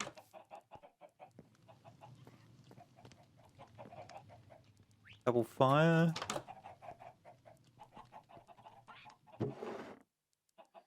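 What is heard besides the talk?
chickens clucking in the video game Minecraft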